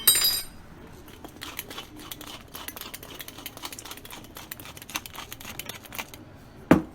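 A utensil clinking and tapping against a bowl while a vinaigrette with sugar, salt and pepper is whisked, a quick irregular run of small metallic ticks, fairly faint, ending with one sharper knock.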